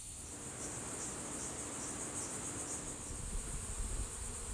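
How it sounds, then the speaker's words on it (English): Honey bees swarming out of the second box of a backyard hive, a dense, steady high buzzing hum filling the air, continuous and fairly loud with no talk. "The hive is swarming out of the second box."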